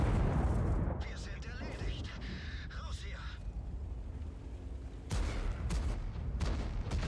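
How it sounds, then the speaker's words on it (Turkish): In World of Tanks, a tank's ammunition rack detonates with a loud booming blast, then a rumbling roar fades before a second heavy burst hits near the end. "Mühimmat patladı."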